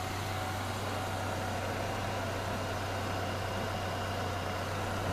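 A 1999 Ford Ranger pickup with a 2.5 engine runs at a steady idle, a close, even low hum with a constant droning tone and no voices over it.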